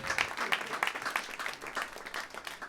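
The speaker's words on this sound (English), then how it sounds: "Give him a round of applause, Kyle Clark." A small comedy roast crowd claps for a comedian in light, uneven applause that sounds somewhat distant, with individual claps audible throughout.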